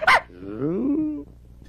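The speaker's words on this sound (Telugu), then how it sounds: "కుక్క ఏంట్రా గోడెక్కింది?" A dog gives one sharp bark, then a drawn-out growling whine that fades after about a second, loud and close with no talk.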